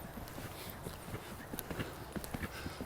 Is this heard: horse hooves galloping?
yes